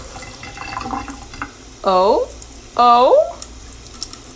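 Water is poured onto a compressed sponge shaped like a vanilla wafer, giving a short splashy run of liquid sound, then two bright gurgling, rising bursts close by, with a voice briefly exclaiming.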